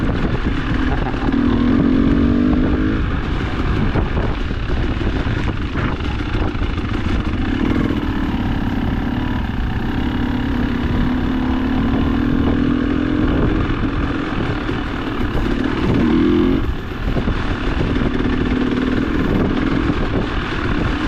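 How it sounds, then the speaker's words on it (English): A Honda and a Husqvarna motorcycle ride on a cold, wet day, their engines droning loud and continuous with rising and falling revs throughout. "Flying Hugh on his Honda. And Derek's leading on his trusty Husky."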